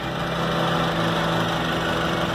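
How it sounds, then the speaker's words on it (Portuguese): Radiator cooling fan running on a 1998 Honda Civic with a rebuilt engine, a steady, dense whirring hum mixed with engine idle, constant and close throughout with no voices. "ligou a ventoinha"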